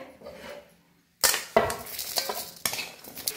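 Grated coconut dry-roasted and stirred in a pan for homemade red chili masala powder: a few sharp scraping strokes and clinks of the spoon against the metal, with a faint background before the stirring starts.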